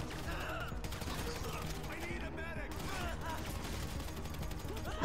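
Dense, continuous gunfire in a heist video game, bursts of rapid shots layered with mechanical clanks and creaks, loud and unbroken throughout with a chaotic, crowded mix.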